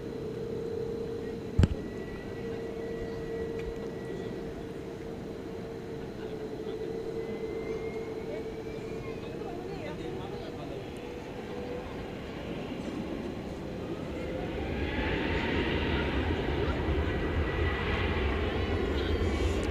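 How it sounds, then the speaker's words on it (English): American Airlines jet taking off from DFW runway 18 left, a steady heavy engine roar with a low hum that swells louder toward the end as the aircraft accelerates, heard from a distance. "American 1243 to San Diego is about to lift off"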